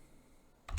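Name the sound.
typing on a computer keyboard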